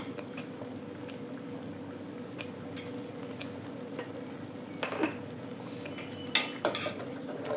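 Ingredients for a Tamil fish curry sautéing in a pan with rock salt added, heard as soft scraping and stirring over a low sizzle with a few metallic clinks of utensil on pan.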